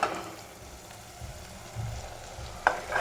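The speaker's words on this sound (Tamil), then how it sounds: "நான் கொஞ்சம் வெண்ணெய் போட்டிருக்கேங்க தாளிக்கிறதுக்கு." Butter sizzles quietly in a pan while spices are tempered for chana masala, a soft steady frying hiss broken by a couple of sharper crackles and stirring sounds.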